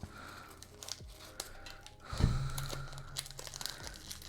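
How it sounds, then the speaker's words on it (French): Scissors cut open the plastic packaging of trading card sleeves, with snips, crinkling and tearing of wrap, including a louder crunching rip midway, heard up close on a tabletop. "On va d'abord ouvrir les sleeves, que je vous les montre de plus près."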